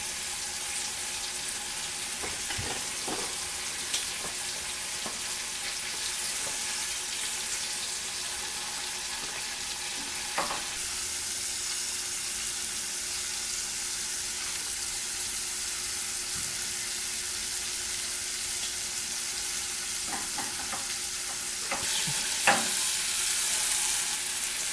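Scallops sear in butter in a hot pan, a steady, close sizzle and crackle running throughout, with a few faint clinks and scrapes now and then.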